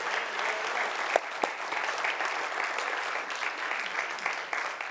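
A church congregation claps continuously in a steady, dense wash of applause that fills the room and holds evenly throughout.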